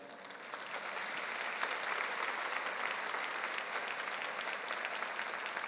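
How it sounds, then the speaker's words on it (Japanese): Fans applauding at a Kawasaki Frontale fan appreciation day in 2022, a steady wash of clapping from a large crowd, soft and heard from some distance, swelling slightly and then holding even. "熱い声援拍手を大きな拍手、"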